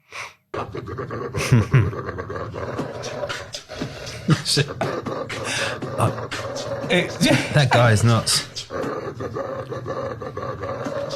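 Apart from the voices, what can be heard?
vicious dog making roaring growling noises in a played video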